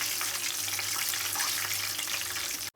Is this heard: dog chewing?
no